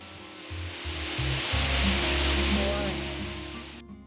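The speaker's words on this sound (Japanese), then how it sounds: "とっても雄大な滝でした。" Akiu Otaki waterfall near Sendai roars as a steady, broad rush of falling water, continuous and fairly loud, swelling slightly in the middle before easing and cutting off at the end, with some low rumbling underneath.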